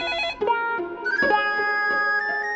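A telephone rings with a bright electronic ringtone, a repeating melodic tone pattern that sounds loud and close, with no talk over it.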